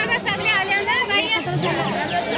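Dense crowd chatter at the Pandharpur temple in Maharashtra, many overlapping voices babbling close by in a steady hubbub with no clear pause.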